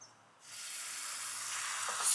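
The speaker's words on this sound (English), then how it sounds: "You want to add a little bit of the batter" Oyster omelette batter hits an oiled non-stick pan and breaks into a loud, steady sizzle that keeps building, with a brief quiet moment before the hiss begins.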